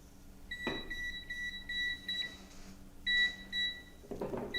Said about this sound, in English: that's why it's beeping as soon as I touch the meter.